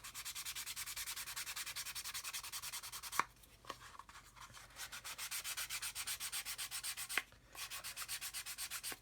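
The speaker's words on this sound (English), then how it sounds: "So if I go like this and sand in the other direction, that will remove them." A sanding stick rubs back and forth across a flat surface in steady, even strokes, close and fairly quiet, with a couple of brief pauses and sharp taps where the direction changes.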